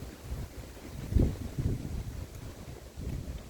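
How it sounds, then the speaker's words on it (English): Strong wind blows outdoors beside a chicken coop, hitting the microphone as a low, rumbling buffet that swells and drops in uneven gusts, with no voices. "Very windy."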